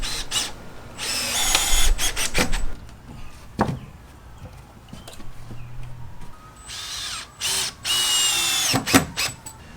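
A power drill drives 3.5-inch deck screws into a wooden fence post outdoors, with several loud, close bursts of whining motor, short stops between screws, and quieter handling knocks in the gaps.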